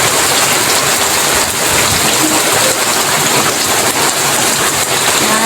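Heavy rain pours down steadily in a loud, dense hiss during a rainy January, with a river nearby already flooded; no voices are heard.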